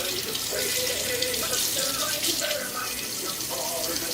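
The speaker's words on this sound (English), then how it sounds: "Rinse my fingers." Fingers rinsed under a running kitchen tap while cooking corned beef and cabbage, a steady close splash of water pouring into the sink throughout.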